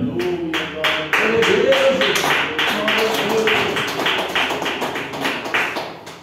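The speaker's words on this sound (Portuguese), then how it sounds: "Vamos receber, glória a Deus, o pastor Salmo, glória a Deus, com as palmas que exaltam o Rei Jesus." A church congregation at a worship service claps steadily in rhythm, the crisp, even beats continuing over music and voices throughout.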